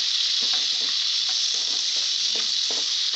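Finely chopped tomatoes fry in a hot pan for masala avalakki, giving a steady close sizzle with soft stirring scrapes throughout and no talk.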